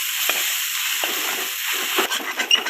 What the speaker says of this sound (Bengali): অল্প চাউলের গুঁড়া নিয়ে তাতে গরম মশলা দিয়ে দিলাম, থেতো করে দিয়ে দিচ্ছি। তেল দিয়ে ভালো করে নেড়ে চেড়ে ভেজে